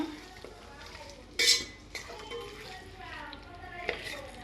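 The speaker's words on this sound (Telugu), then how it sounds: "ఇట్లా చికెన్ కలపాలన్నమాట" Chicken being stirred in a pan for gongura chicken gives soft scraping and clinking at close range, with one brighter metallic knock partway through.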